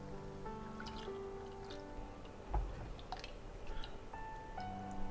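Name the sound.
slowly pouring dairy into butter and flour roux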